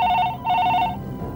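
A telephone ringing, two short bursts of a bright electronic ring heard close and clear, followed by a quiet tail with no talking.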